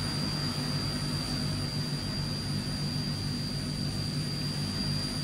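Transall C160 turboprop cargo plane engines on the takeoff roll in a flight simulator, a loud, steady roar with a constant high whine, unbroken throughout.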